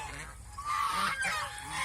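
Large, heavy domestic geese honk loudly and close by in short bursts, several calls overlapping against a steady farmyard background.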